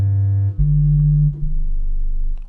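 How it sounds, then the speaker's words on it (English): Synthesized bass tones from the FL Studio DUBturbo plugin, loud pure sustained notes stepping through a few pitches in succession with no other sounds. "So this creates and generates bass tones,"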